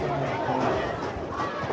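A high school football crowd with the student section of Caldwell County cheering across the field, a dense roar of voices heard briefly at a distance under close talk.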